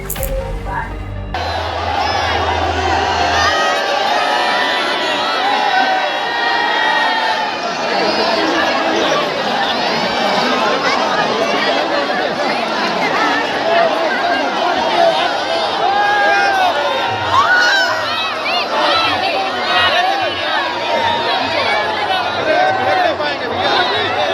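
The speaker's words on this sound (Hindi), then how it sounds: "मोदी जी को देखने के लिए लोगों की काफी तादाद में भीड़ रही" Large dense crowd at a Modi road show in Kanpur, a steady roar of chatter and shouting voices with scattered cheers, loud and continuous throughout.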